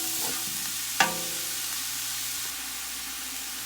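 Collard greens cook in a pot with a steady broad sizzle and hiss, while a spoon stirs through them with one sharp scrape or knock against the pot and soft shuffling, with no talking.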